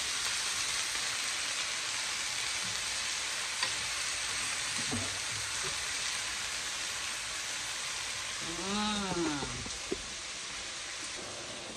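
Shrimp and papaya leaves fry in a pan with a steady, dense sizzle and occasional stirring, while a voice speaks briefly over the cooking.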